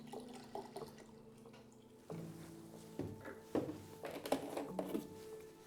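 Water poured into photographic developer mix in a darkroom, a quiet close trickle and splashing that grows fuller and more irregular toward the end.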